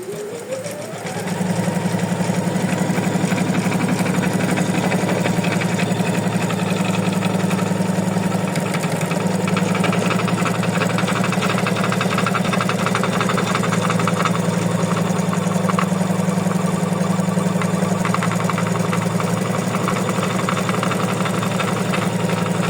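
An embroidery machine stitches an in-the-hoop cozy house ornament, a steady loud mechanical hum with a rapid stitching buzz, running continuously up close without talk.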